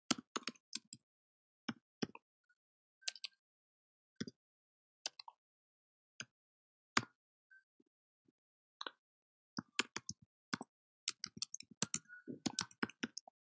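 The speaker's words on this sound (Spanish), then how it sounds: "escribo el nombre del medicamento" Bursts of close keystrokes on a computer keyboard as a medicine name is typed into a medical prescription desktop program, with quiet pauses between short runs of clicky taps and no voices.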